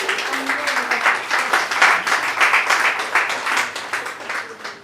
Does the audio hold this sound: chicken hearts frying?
no